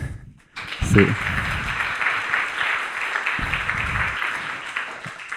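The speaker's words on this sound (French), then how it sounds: "je pense que vous pouvez l'applaudir" An audience at a CRM and sales meetup claps for the next speaker, steady applause that starts after a brief silence, with a voice briefly speaking over it.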